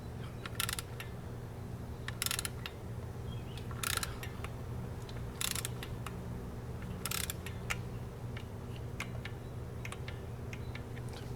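A torque wrench ratchets bolts on the transmission pan of a 2009 Ford Ranger. Close, sharp ratcheting bursts repeat roughly every second and a half over a steady low hum, with no talking.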